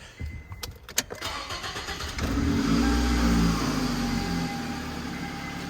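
A 2007 Toyota Camry with its exhaust downpipe removed cranks, fires and settles into a loud, steady running rumble up close, after a few clicks and knocks at the start.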